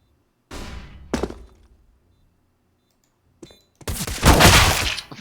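A flashbang grenade is tossed and detonates during a Counter-Strike-style bomb defusal match: a couple of thuds and clatters from the throw, a short pause, then a loud, harsh, broadband burst that rings out for over a second.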